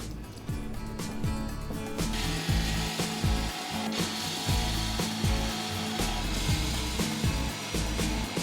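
A drill press bores a series of holes in a table saw insert, giving a steady motor whir with repeated grinding, biting bursts as the bit cuts through, close and fairly loud.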